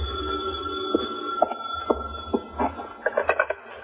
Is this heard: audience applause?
no